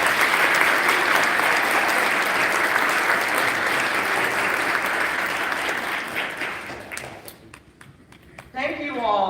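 An audience at a school AFJROTC awards ceremony applauds, steady dense clapping that fills the room for several seconds, then thins out and fades before a voice begins speaking.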